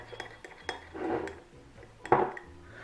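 Glue being mixed into slime in a bowl, with clinks and scrapes of a utensil against the bowl, a few sharp taps and a louder stirring scrape near the end, no talking.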